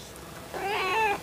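A single drawn-out cat meow, close and clear, rising then falling in pitch, with nothing else around it.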